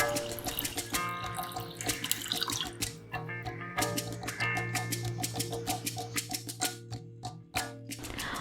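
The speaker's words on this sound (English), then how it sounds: "Add 2 cups of water." Water is poured from a tap or jug into a vessel of dal, a steady close splashing and gurgling stream that runs for several seconds with no talk.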